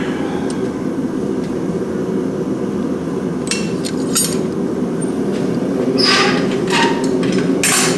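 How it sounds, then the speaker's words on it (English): Rough scraping strokes of a farrier's rasp trimming back the heels of a horse's hoof, a few bursts in the second half over a loud, steady engine-like drone. "I gotta rasp my heels back a little bit"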